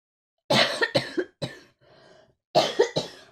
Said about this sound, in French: je sais pas ce que c'est qui me fait tousser